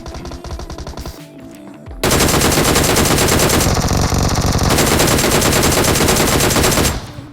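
Automatic gunfire in PUBG Mobile (BGMI), loud sustained machine-gun bursts filling most of the clip after a quieter opening of game sounds, with a brief dip in the middle before firing resumes.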